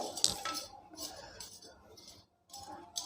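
A spoon stirs jaggery into cooked lentils in a metal pot for mango-flavoured kadbu, giving a few light clinks and soft scrapes against the vessel, quiet and close, with short pauses between strokes.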